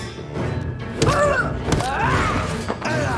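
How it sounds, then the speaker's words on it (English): An explosion in the video game Vampyr lands as two sharp, heavy thuds about a second apart, over a steady bed of game ambience and a faint voice-like tone. "Oh god, the explosion!"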